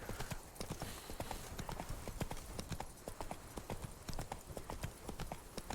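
Roach, Geralt's horse in The Witcher 3, gallops at a quick, steady rhythm of hoof clip-clops that carries on continuously through the whole stretch.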